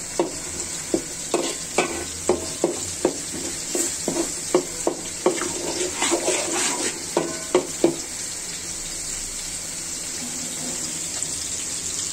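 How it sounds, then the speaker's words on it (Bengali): A utensil scrapes and knocks against a pan while koi fish fry is stirred, producing about a dozen regular sharp clinks over a steady sizzle, then only the frying hiss continues. "এখন একটু ঘন নাড়াতে হবে যেন এটা তলাটা ধরে না আসে"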